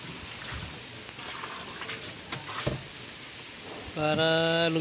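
Water runs into an old, broken washing machine as a soft, steady, splashing hiss, and near the end a motor hum starts up over it.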